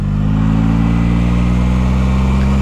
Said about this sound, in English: See it downshifting? It even like revs, it matches the revs and downshifts.